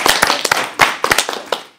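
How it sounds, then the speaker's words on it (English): A short, quick round of clapping at a committee meeting: a handful of people applaud in close, sharp, uneven claps for under two seconds, with nothing else heard. "may we please offer a quick round of applause"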